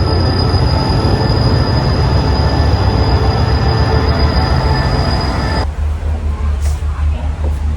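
A Thai local passenger train pulls into a station platform, loud and close, with rumbling wheels and squealing rails that ease into a quieter, steadier hum at the end. Faint voices sit under the noise.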